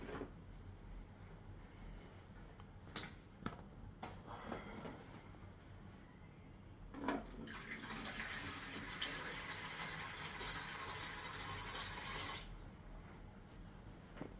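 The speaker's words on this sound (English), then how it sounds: "Get you some fresh water up in here." Fresh water is poured into a boa constrictor's enclosure, giving a steady, fairly loud rushing splash for about five seconds, preceded by scattered clicks and knocks from handling the enclosure.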